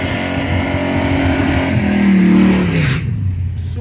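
A drag-racing Chevrolet S10 pickup with an LS engine at a Chihuahua drag strip, loud and close, its revving engine climbing then sweeping down in pitch as it pulls away, with crowd noise beneath.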